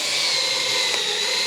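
A power drill spins a new countersink bit into wood while a shoe rack is being built. A steady, close, high-pitched whine runs unbroken throughout with no voices.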